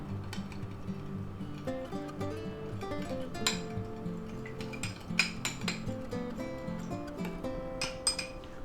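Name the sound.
mixing sauce with brown sugar in a bowl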